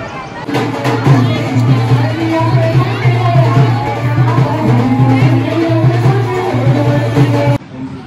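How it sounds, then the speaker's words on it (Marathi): A dense crowd of people gathers outside a temple in Mathura. Steady babble and chatter fill the scene at close range, with a low, regular hum running beneath it throughout. "ही आता यायची गर्दी आहे लोकांची"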